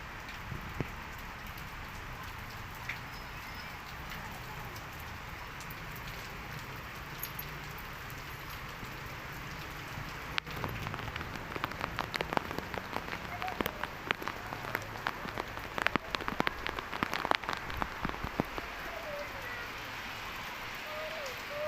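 Steady rain pours outside a house, a dense even hiss with sharper raindrop patter growing heavier midway, continuing throughout.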